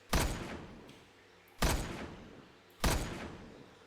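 Three evenly spaced gunshots ring out in a survival first-person shooter game, each a sharp loud crack with a decaying tail, about one and a quarter seconds apart, with no voices.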